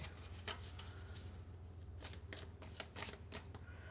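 Oracle cards from an elf-themed deck being shuffled by hand, a soft, close papery riffling that comes in quick uneven flicks and rustles throughout, with no talking.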